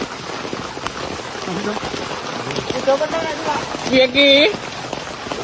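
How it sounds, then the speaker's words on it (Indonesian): Rain falls steadily on the surface in a hilltop pine forest, a close, continuous patter with brief voices and a short whistling sound over it. "Hujan turun."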